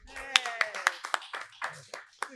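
Audience at a Somerville mayoral candidates forum on older adults' issues clapping: sparse individual claps, about ten distinct hand strikes at irregular spacing, close and light, with a speaking voice underneath.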